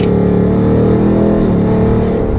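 A Ford Mustang, S650 GT or S550 Mach 1 with a Coyote V8, accelerating hard through paddle-shifted gears, a loud, close, sustained engine roar climbing steadily from inside the car.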